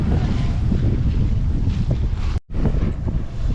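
Strong wind roars across the microphone as a sailboat rushes through flat water at 7 to 8 knots, a steady loud whoosh broken by one brief dropout.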